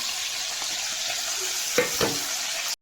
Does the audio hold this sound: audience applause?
no